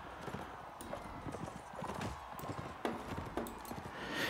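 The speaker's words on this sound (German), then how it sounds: "Wenn man hier gegen zwei reitet." Horse hooves clip-clop in a rapid galloping rhythm during mounted combat in the video game Mount & Blade: Warband, moderately loud with sharper impact clatters, a brief whinny and faint speech beneath.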